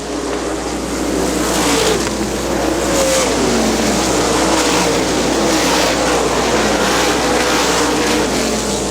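410 sprint cars roar around the dirt oval at Butler Battlegrounds, a dense, steady wall of engine noise from a pack of cars, loud and continuous with rising and falling revs as they pass.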